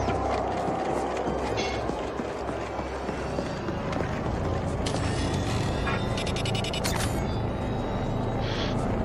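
A train in the sci-fi video game The Ascent gives a dense, steady rumble with rail clatter and mechanical clanking, loud and continuous, with bright metallic bursts through the middle.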